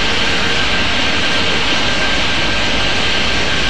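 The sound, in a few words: airplane engines in video game Airport Madness 3D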